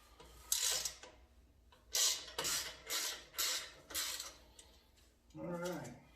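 A socket wrench works on bolts of a Harley-Davidson factory exhaust, giving a series of about seven short ratcheting bursts in a steady rhythm, close and moderately loud, followed by a brief clunk.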